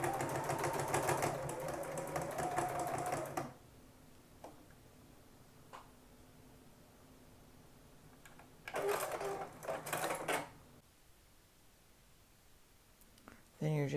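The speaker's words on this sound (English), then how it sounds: "So I'm stitching it down, stitching it through all of the layers." Sewing machine stitching foundation strips through the layers of a potholder, with a fast close hum in two bursts separated by quiet handling, and a voice talking in between.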